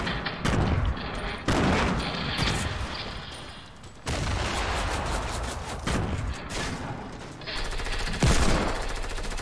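Hand Cannon gunfire in a first-person shooter game, heavy booming shots in a rapid irregular barrage over most of the stretch, with faint voices in the background.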